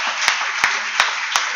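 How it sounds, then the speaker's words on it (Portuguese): A church congregation applauding, a dense, even wash of many hands clapping at once with a few sharper accents in a steady rhythm, loud and continuous. "Você pode aplaudir então a Ele com vontade?"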